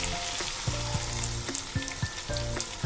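Ground cashew paste sizzles loudly in a frying pan of pointed gourd curry, and a spoon scrapes and stirs it in regular strokes, heard up close without any talk.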